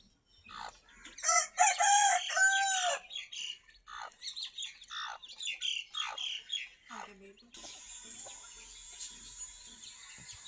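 Two-month-old desi chickens squawk and cluck up close, with loud harsh calls early on, then a run of shorter clucks, and a steady background hiss in the final seconds.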